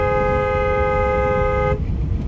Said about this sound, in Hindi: long horn